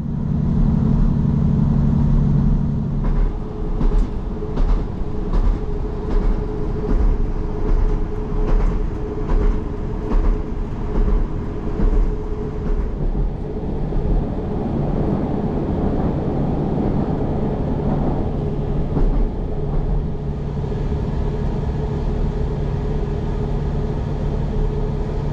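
Transport for Wales diesel railcar running along the Heart of Wales Line, a steady close engine drone with rhythmic clickety-clack of wheels over rail joints throughout, no voices.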